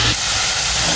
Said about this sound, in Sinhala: මේ තෙල් දැම්මම වගේ තමයි කෙසෙල් මුව තෙල් දාන්නේ